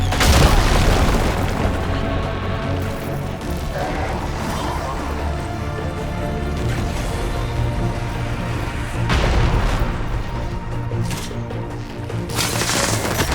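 Explosions and heavy weapon fire from the video game Horizon Forbidden West: Burning Shores, with loud, dense booming blasts that keep rolling and swell in bursts, while a player talks over the action.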